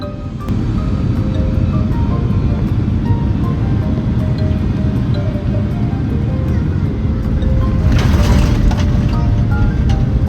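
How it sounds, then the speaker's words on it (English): A Boeing 767 airliner touches down at Almaty airport, a loud, constant low roar of engines and rushing air filling the cabin, with a brief brighter rattling burst near the end. "We touched down and taxied into the terminal about 30 minutes behind schedule"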